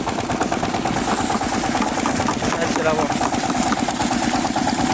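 A crop sprayer tank's pump motor runs steadily nearby, mixing pesticide, with a constant droning hum and a faint rattle, and someone speaks over the noise.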